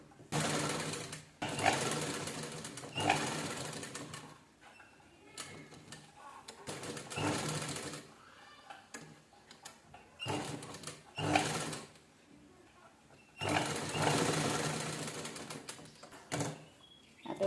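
A sewing machine stitches a velvet blouse sleeve in repeated close bursts of rapid mechanical chatter, separated by brief quiet pauses.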